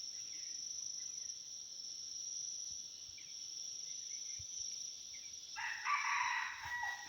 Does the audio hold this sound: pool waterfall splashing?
no